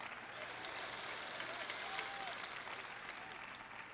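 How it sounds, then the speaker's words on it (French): Audience applause during a church sermon, a steady wash of clapping from a large crowd that holds evenly throughout at moderate, slightly distant level. "Et je suis heureuse que vous applaudissiez"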